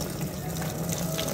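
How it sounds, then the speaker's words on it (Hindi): Water pours steadily into a black tub set outdoors for pets, a continuous splashing rush that fills the short stretch at a constant level. "तो यार पानी शानी भर देते हैं इसमें।"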